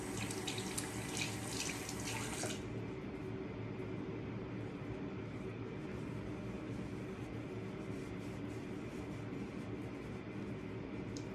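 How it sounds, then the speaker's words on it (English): Running tap water streams steadily from a sink faucet while someone rinses their face at home, a brighter splashing burst in the first couple of seconds settling into a constant close hiss of flowing water. "you can splash your face with water however you normally rinse your cleanser off"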